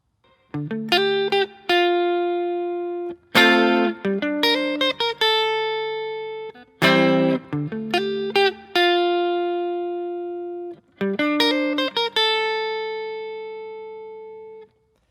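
Bright electric guitar chords ring out in short, repeating strums, each one sustaining and fading before the next, played alone at a steady pace.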